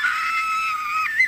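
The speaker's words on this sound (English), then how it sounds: "The scream came from the kitchen." A single high, sustained scream about a second long that wavers and breaks upward near the end, loud and alone.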